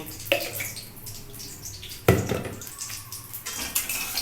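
A cooking pot scrubbed and rinsed with running water in a home kitchen, splashing and scraping with a couple of sharp knocks of metal, close and steady, with no talk.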